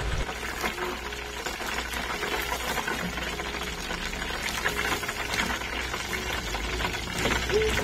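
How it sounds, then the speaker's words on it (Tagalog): Food frying in hot cooking oil in a new pan, a steady crackling sizzle with scattered pops that continues evenly and fairly close, with no talking. "mga kamima ko paano siya naluluto dyan sa loob ng mantika"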